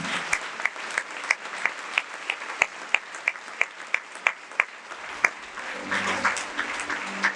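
Worshippers at a Spanish-language church service clap along in a steady rhythmic beat, sharp regular claps over a low crowd wash, with a voice coming in near the end.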